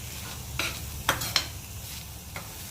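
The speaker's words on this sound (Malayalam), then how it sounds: "നമുക്ക് അല്പം വെളിച്ചെണ്ണ ചേർക്കാം. നല്ലവണ്ണം ഇളക്കി കൊടുക്കാം." Grated coconut roasting in hot coconut oil in a pan gives a soft background sizzle broken by a few sharp scraping stirs of a spoon against the pan.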